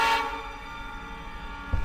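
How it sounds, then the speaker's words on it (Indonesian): A train horn blares from a passing train, loud at first and then fading as the train rolls away, followed by a low rumble rising at the very end. "Terdengar juga suara kereta api yang melintas menjauh"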